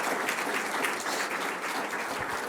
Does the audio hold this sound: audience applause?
yes